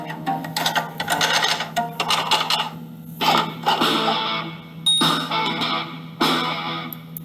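Keys on an old mechanical typewriter clatter in dense, rapid bursts, sharp strikes and rattling, broken by short pauses and occasional heavier knocks, loud and close over a steady low hum.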